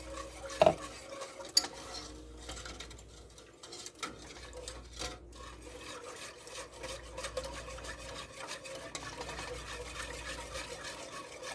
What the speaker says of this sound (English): Mix this up really good and make it smooth.